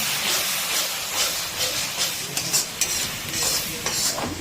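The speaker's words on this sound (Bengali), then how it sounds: "দিয়ে দিচ্ছি সামান্য পরিমাণ একটু জল, করে দিচ্ছি ভালো করে মিক্স" Spice paste for a chicken curry is stirred in a hot pan after a splash of water, giving a loud steady hiss and sizzle with scraping strokes and bursts of steam.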